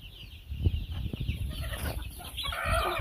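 Chickens clucking in a brooder crowded with baby chicks, a cluster of close, uneven clucks and peeps with soft rustling throughout.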